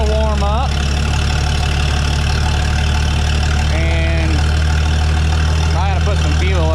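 An old work vehicle's engine idles steadily while warming up, a loud, constant low rumble with brief voices speaking over it near the start, middle and end.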